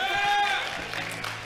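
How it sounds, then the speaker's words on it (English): A crowd of spectators at a high school Hickman vs Battle exhibition match applauds the visiting Battle team, broad clapping and cheering mixed with a voice near the start, fading slightly after the first half second. "Let's give them a round of applause."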